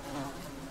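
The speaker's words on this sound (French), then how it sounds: "je réalise que le bourdonnement provient de la fenêtre. Satanée mouche." A housefly buzzing at a window in the horror video game Uncoven, a short, steady, close droning hum with no voices.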